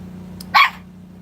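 A single short squeak from a dog toy, sharp and close, over a steady low hum.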